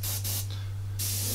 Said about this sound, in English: when you were spraying, sometimes you get spits of water coming out